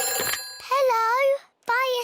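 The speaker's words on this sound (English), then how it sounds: "It's the fire phone." A cartoon fire station telephone rings in two warbling electronic bursts separated by a short gap, loud and close, with a brief noisy sound just before the first ring.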